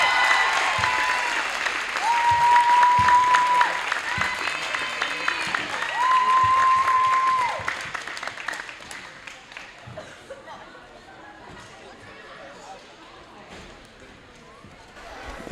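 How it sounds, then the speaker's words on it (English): Audience applause for a unified cheer team at a high school basketball game, a loud crowd ovation with bouncing balls, then fading to chatter in the gym, while an announcer talks over it. "How about another round of applause for a United Cheer Team?"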